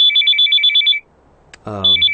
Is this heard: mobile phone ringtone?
yes